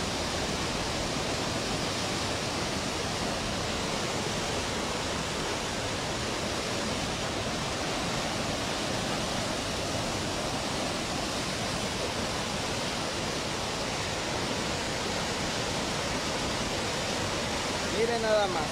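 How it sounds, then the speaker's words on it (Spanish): A flooded river near Palenque, Chiapas, swollen and overflowing its banks at a crossroads, produces a dense, continuous roar of rushing water. The sound stays steady and loud for the whole stretch, with no voices over it. "En la mañana estaba más crecido y en el crucero Chupá igual se desbordó el río"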